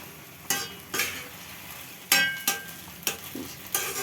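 Punjabi sarson saag is stirred and roasted in a pot, a spoon scraping through the greens in about eight rhythmic strokes over a soft sizzle.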